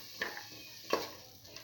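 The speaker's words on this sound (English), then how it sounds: "Keep on sauteing until the tomatoes and the rest of the ingredients are nicely integrated into each other" Tomatoes and other ingredients for a split pigeon pea stew being sautéed in a pan: two quick spatula scrapes over a faint, low sizzle, quiet between strokes.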